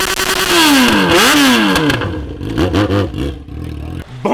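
A Yamaha XJ6 motorcycle engine revs hard and close, its loud whine sweeping up and down in pitch several times before settling into rough, pulsing revs.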